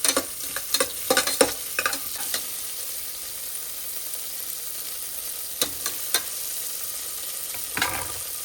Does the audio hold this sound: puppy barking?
no